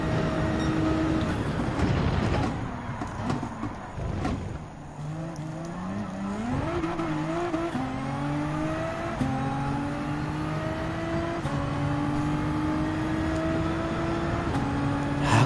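A race car engine in Gran Turismo 7 at the Red Bull Ring drones steadily, its pitch rising and falling through shifts as the car accelerates. A brief tire squeal and track noise come in near the start.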